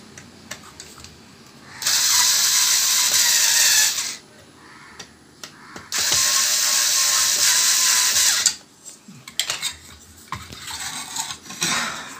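A screw is tightened on a circuit board during a repair, heard as two sustained bursts of bright mechanical whirring and ratcheting separated by a quiet gap, followed by scattered small clicks and handling taps.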